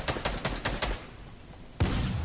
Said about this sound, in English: we're gonna go for this guy with our tactical shotgun